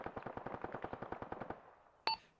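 Rapid automatic gunfire in a military video game, a steady rattling burst of evenly spaced shots that stops, followed by a single sharp louder report with a ringing tail.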